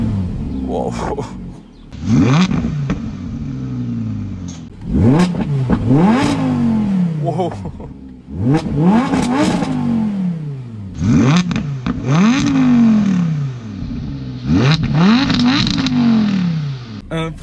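A warm Audi R8 V10 Plus supercar with a naturally aspirated 610 hp V10 is revved hard about six times in a row, each sharp roaring rise snapping back down, loud and close, with one brief exclamation from a voice.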